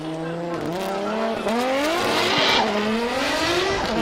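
A Toyota JZX100 Chaser drift car races through a corner at Ebisu during Formula Drift Japan qualifying, its engine revving hard with pitch swings while the tires squeal loudly and continuously.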